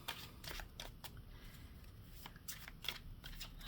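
Soft papery riffling of cards being shuffled, several quick bursts spaced through the clip over a faint low hum, fairly quiet and close.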